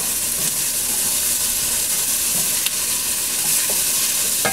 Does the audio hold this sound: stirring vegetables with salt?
yes